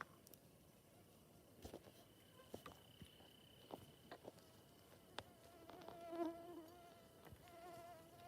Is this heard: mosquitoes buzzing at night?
yes